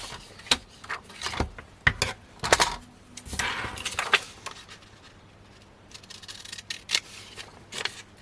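Scissors cutting paper for a card belly band: a series of short, crisp snips and rustles spaced irregularly over several seconds, fairly close, with small handling clicks between cuts.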